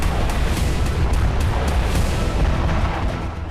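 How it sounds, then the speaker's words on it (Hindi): A white phosphorus bomb blast over a populated area, heard as a dense, sustained low rumbling roar with scattered sharp crackles and pops, loud and continuous without any speech. "यह फास्फोरस बम का धमाका था"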